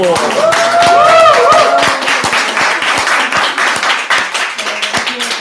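A church congregation claps together during a Bible study session on Matthew chapter 1, a steady burst of many hands that starts loud and gradually thins out, with a voice speaking over the opening moments.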